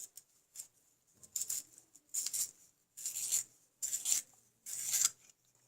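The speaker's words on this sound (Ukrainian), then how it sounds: "Постругати його треба тільки." A raspberry-colored pencil being sharpened gives several short bursts of soft, dry rasping, each a second or so long and separated by brief pauses, close and fairly quiet.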